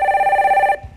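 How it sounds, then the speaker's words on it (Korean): Telephone bell ringing for an incoming call on a broadcast phone-in show, one loud, close electronic ring lasting most of a second and then cutting off. "자, 두 번째 전화 받아 보겠습니다."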